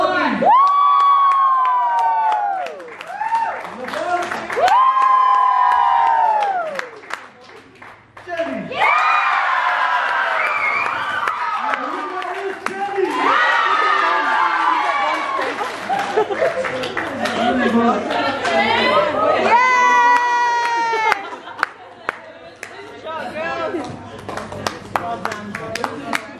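A party audience at a 21st birthday high-note challenge screams, whoops and cheers in loud sustained bursts, with high shrieks, clapping and crowd chatter filling the gaps.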